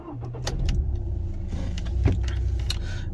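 A 2010 Audi A6 2.0 TDI diesel with a manual gearbox starts up close by: a low mechanical rumble runs throughout, with a brief sharper burst about two seconds in and light metallic rattles.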